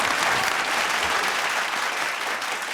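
A studio audience on the Bigg Boss season 12 pre-finale television set applauds steadily and loudly, a dense, continuous clapping that holds for the whole stretch with no voices over it.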